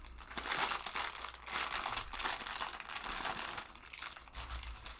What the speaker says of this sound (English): Downside of this build, a lot of crinkling plastic, and there are no numbered bags.